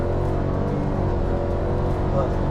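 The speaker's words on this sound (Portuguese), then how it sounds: "O motor turbo, vou aproveitar a retinha aqui para dar uma acelerada" A Fiat Pulse 2022 with its turbo engine accelerating along a short straight, giving a steady, loud engine roar with road and cabin noise throughout.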